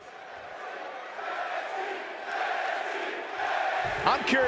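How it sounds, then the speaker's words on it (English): A WWE wrestling arena crowd cheers and roars steadily throughout, the big indoor swell rising in waves, with a sharp burst of louder shouts near the end. "Listen to this crowd, guys. They're fired up for this one."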